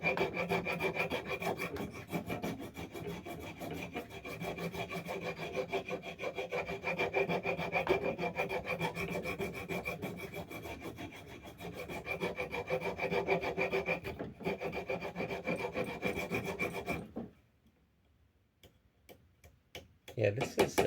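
A rasp files steadily at a cracked vintage wooden axe haft, a continuous coarse scraping of repeated strokes heard close, stopping near the end with a few faint knocks.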